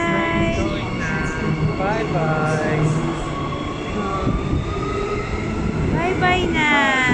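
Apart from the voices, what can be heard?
train pulling away from the station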